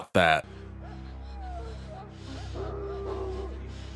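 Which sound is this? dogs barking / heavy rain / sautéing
dogs barking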